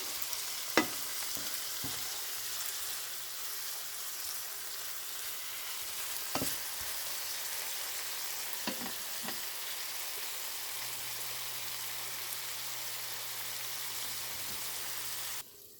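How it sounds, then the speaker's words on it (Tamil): Tuna frying in soy sauce in a pan, a steady soft sizzle with a few sharp clicks of stirring over about sixteen seconds, close and quiet. "இந்த தூணா அவிஞ்சு கொண்டு இருக்குது பாருங்கள் நல்லா சோயா சோஸை விட்டுட்டு இப்போ நாங்கள் நல்லா திரட்டி விடுவோம்"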